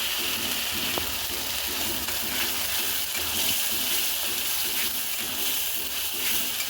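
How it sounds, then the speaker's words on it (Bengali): Chili, cumin and turmeric spice paste fries in oil with a constant dense sizzle and a soft, rhythmic stirring texture underneath. There is no talking. "মশলাটা একটু ভালো করে কষাবো।"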